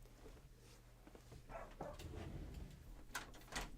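Dogs in a room give a few scattered barks and whimpers, faint and brief, over a low hum with light background noise.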